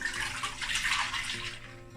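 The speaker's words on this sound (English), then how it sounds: "So pour the milk in" Milk is poured from a container into a hot pan on a lit stove, a soft, steady splashing and gurgling stream lasting two seconds.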